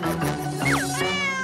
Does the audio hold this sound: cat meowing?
yes